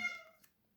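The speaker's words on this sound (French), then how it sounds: "Excusez-moi, c'est mon chat derrière." A house cat gives one short, high, tonal meow in the background, fading quickly into near silence.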